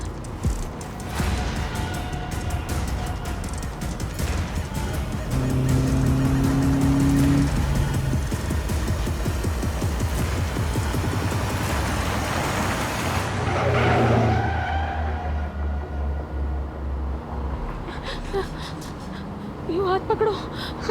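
A car speeds hard along a road in a tense crime-drama scene, engine roar and tire skidding sustained throughout, loud and close, with frightened voices talking over the driving noise before it fades near the end.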